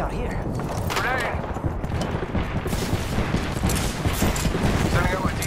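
Rapid, loud bursts of weapon fire in the battle royale shooter Apex Legends, dense crackling shots running almost continuously at close range, with character voices mixed in.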